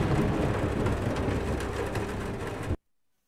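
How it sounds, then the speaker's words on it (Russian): Steady rain in the post-apocalyptic shooter Metro Exodus, a dense continuous hiss with low rumbling underneath, loud and unbroken for nearly three seconds before cutting off to silence. "Дождь пошел."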